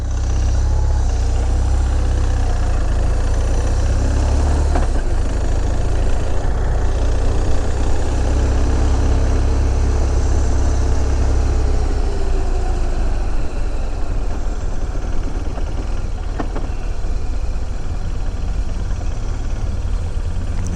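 A car engine runs steadily at low speed, almost stalling, with a heavy, rough rumble, the loud drone continuing throughout with a few faint clanging knocks.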